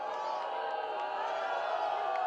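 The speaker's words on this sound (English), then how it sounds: "the crowd is voicing their disapproval" Football crowd at a Red Knights versus Orioles game, a dense sustained roar of disapproval over a contested call, steady and loud throughout with no clear individual voices standing out.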